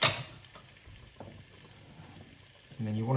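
Turkey curry frying in a pan with spices, onions and tomatoes: a loud stir at the start, then a low steady sizzle, and a louder burst of frying near the end.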